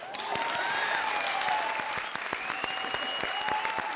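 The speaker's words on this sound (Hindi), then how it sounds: "तालियां।" Brisk applause from a studio crowd fills the whole moment, with scattered sharp claps over a steady background of clapping hands.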